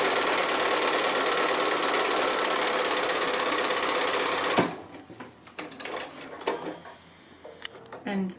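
A sewing machine runs a line of top stitching along the edge of a fabric card wallet with a fast, steady mechanical whir for several seconds, then stops, followed by scattered handling clicks and a voice.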